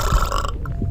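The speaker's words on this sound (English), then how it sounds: "causing hers to burp loudly." A single loud, close burp rumbles low for about half a second, then fades into a quieter low gurgle.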